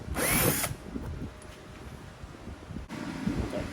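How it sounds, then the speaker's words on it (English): A power drill with a 1/4 inch bit whirs briefly at high speed as it bores through a marked spot on a 2015-2023 Dodge Challenger, then stops, followed by quiet handling noise. "I went ahead and got a 1/4 inch drill bit. And what we'll do, drill right through our mark."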